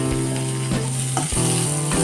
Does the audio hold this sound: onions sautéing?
yes